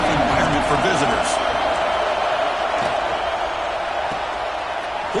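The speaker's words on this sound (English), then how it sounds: "Listen to the crowd energy here in the early going." A stadium crowd at a college football game roars in a dense, steady wash of cheering that eases slightly over a few seconds. Commentators talk over it.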